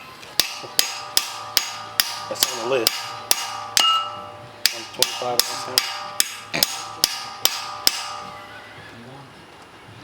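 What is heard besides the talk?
hammering on metal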